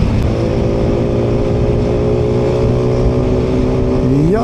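Suzuki Raider motorcycle on the road, a loud, steady engine drone with wind rush heard from on board, the pitch rising near the end as it accelerates, with no talk.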